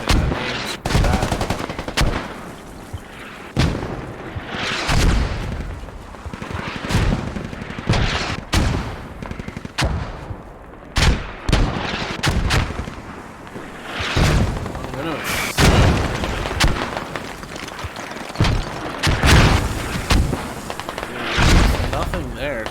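Mortar shells and gunfire in the Squad tactical shooter, with repeated loud booms and bursts of shooting spread across the whole span, while voices talk over the top almost continuously.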